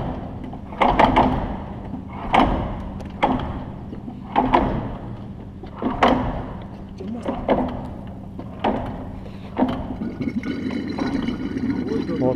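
A series of separate mechanical clunks and whooshes, roughly every second or so, as a Rotax 912 aircraft engine is turned over slowly by hand for an oil check, with faint background noise.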